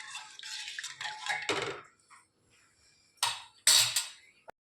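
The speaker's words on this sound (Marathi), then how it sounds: "आणि हे छान हलवायचं" A metal spoon scrapes and clinks against a pot of homemade drumstick soup boiling with lemon or vinegar, in bursts of stirring with a short quiet gap, close and fairly loud.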